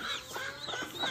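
Soft clucking and peeping from a broody hen with her chick in a backyard coop, a few short faint calls close by with no talk.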